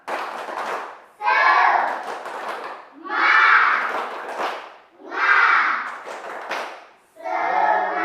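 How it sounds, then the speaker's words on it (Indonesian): A group of children performs a rhythmic 'tepuk semangat' clap routine, with four or five distinct bursts of patterned clapping, each separated by brief pauses, close and fairly loud. "mari kita tepuk semangat"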